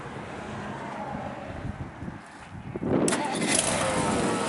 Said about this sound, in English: We'll fire this thing up.